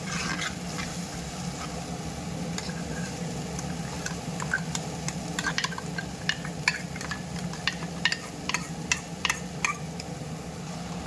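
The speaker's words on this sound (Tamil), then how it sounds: "எண்ணெயிலேயே நல்லா வதக்கி எடுத்துக்கணும்." Ingredients for a barracuda (sheela) fish curry sauté in oil, making a soft, steady sizzle; quick ticking taps of a spoon against the pan grow more frequent in the second half.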